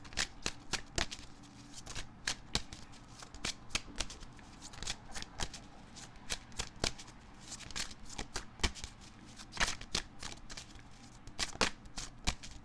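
Tarot cards being shuffled by hand to draw a card, with a long run of quick, crisp riffling bursts and soft slaps, close and fairly quiet, repeating at an uneven rhythm.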